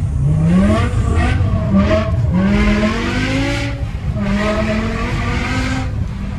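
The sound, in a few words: BMW M5 V10 with full tube exhaust drifting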